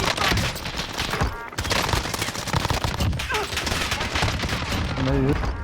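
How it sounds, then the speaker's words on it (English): Sustained rapid gunfire fills a Call of Duty Warzone match, dense overlapping automatic bursts that stay loud with a brief lull, with game effects mixed in. "I'm taking fire"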